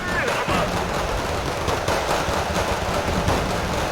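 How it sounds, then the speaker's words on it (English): Wargame: Red Dragon battle with artillery shelling Soviet infantry caught in the open, a continuous dense barrage of gunfire and blasts rumbling steadily throughout without pause. "Getting hammered by artillery."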